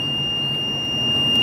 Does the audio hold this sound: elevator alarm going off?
yes